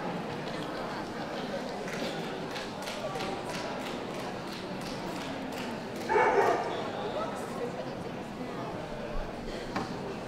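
Long coat Chihuahuas give small, sharp yips and barks at an indoor championship dog show, faint under a busy crowd murmur, with one louder bark burst midway.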